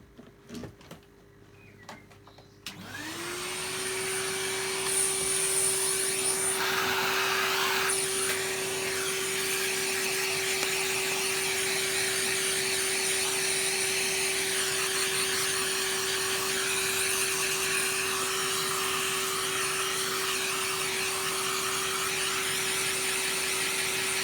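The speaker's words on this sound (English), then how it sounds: "Let's vacuum up this little mess." A Hoover Turbopower Junior U1220 upright vacuum cleaner switches on and runs steadily, a loud, constant motor whine with a high steady tone as it sucks up a small mess, no voices over it.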